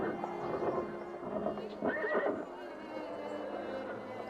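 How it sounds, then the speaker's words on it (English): A horse neighs in a Sherlock Holmes vs Arsene Lupin video game, a drawn-out whinny over clip-clopping hooves and a steady street ambience at moderate distance. "I didn't see the horse, did you?"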